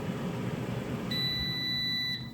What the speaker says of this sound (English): Okay, you heard the beep. So here's the fryer.